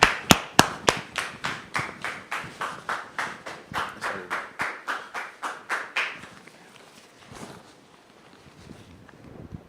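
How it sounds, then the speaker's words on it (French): A small studio audience claps in unison to welcome a guest onto a talk-show set, about twenty sharp, evenly spaced claps in a steady rhythm that stop abruptly and leave faint room noise. "Merci de la recevoir sous vos applaudissements s'il vous plaît."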